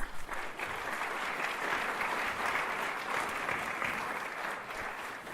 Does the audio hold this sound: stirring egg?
no